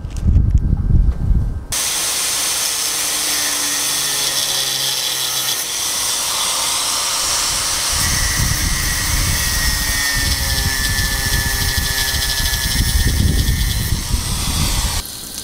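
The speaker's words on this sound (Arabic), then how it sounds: "نستخدم الصاروخ في ذلك كما هو ملاحظ الآن" An angle grinder cuts off a plug on a water pipe, a loud continuous metallic whine and hiss that starts after a short low thump and runs steadily to the end, close and with no talk.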